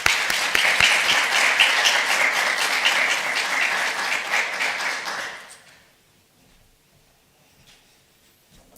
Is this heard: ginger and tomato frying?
no